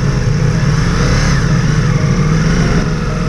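A Ducati Multistrada V4S V4 engine pulling away from a stop, a loud, steady mid-pitched drone close by with a slight rise in revs and no talking over it.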